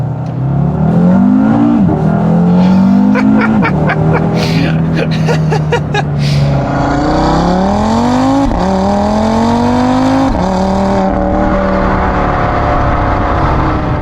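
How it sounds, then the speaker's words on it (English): A tuned Audi RS3 engine revs hard and accelerates on the road through several gear shifts, loud and close, the pitch climbing and dropping with each change. "Once you get this thing out on the road though"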